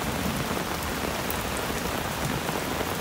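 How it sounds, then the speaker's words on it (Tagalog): Heavy rain pours down on a riverside campsite in a loud, dense, unbroken hiss close by, with no voices. "Lumakas na din yung ulan doon kay Melvin."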